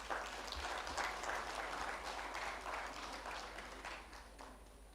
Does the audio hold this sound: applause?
yes